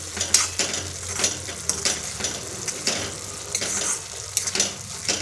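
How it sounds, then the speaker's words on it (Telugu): Bottle gourd curry being stirred in a sizzling pan, steady frying hiss with repeated scraping strokes of a spoon against the pan, close and fairly loud, no talking. "ఒకసారి పైకి కిందికి మంచిగా మిక్స్ చేసుకోవాలి"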